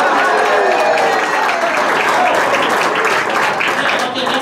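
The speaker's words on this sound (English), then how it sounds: "I want to hear some laughter and applause." Applause mixed with crowd noise and laughter from the audience at a comedy workshop, a loud, sustained burst of clapping and voices that holds steady before easing slightly at the end.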